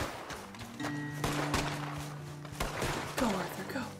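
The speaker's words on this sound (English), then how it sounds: "Stop shooting me!" Gunfire in the video game Red Dead Redemption 2: a handful of sharp, separated shots ring out amid game sounds and tones, while players talk.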